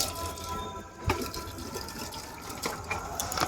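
Water is poured onto garden plants, a steady close splashing and gushing flow that runs without a break.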